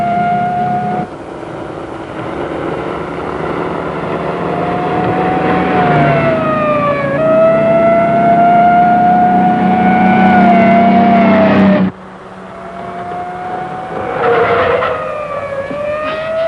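A police motorcycle siren wails loud and close in pursuit, its pitch rising and falling in long sweeps over engine noise, breaking off briefly before starting again.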